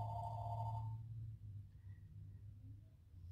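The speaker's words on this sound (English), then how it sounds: "there's the phone." An indoor phone rings with a bright electronic tone for about a second, then fades into quiet room hum during a knitting session.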